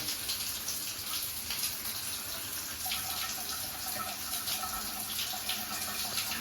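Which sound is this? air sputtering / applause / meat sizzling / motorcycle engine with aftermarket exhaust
air sputtering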